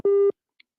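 A single short telephone busy-signal tone beeps loud and steady after a call is hung up, followed by a faint click and then silence.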